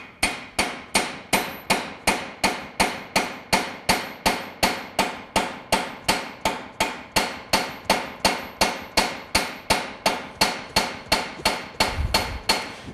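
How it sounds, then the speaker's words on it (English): Steady, rapid hammer blows ring out on metal on an anvil during foldforming, roughly two or three strikes per second, evenly spaced and sharp, continuing without pause. "very often I keep my hammer and anvil in the same place and then we move the metal underneath it"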